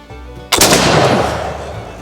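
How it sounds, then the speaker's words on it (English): A single loud shot from a 20 gauge Kibler fowler muzzleloader loaded with a round ball cracks out sharply, then rolls into a long, slowly fading boom with no talking. "When Kibler says you can use a 20 gauge for round balls, that's proof."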